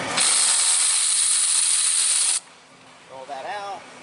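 Socket wrench breaking a bolt free on the exhaust of a Nissan Altima during catalytic converter replacement: a loud, sustained ratcheting and hissing burst lasting about two seconds, then a quieter stretch with a voice briefly speaking.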